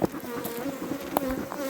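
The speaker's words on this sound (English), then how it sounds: "Look at these bees now." Honey bees buzz steadily at a hive during pest control and feeding work, a close, continuous drone with a few louder passes as individual bees fly near.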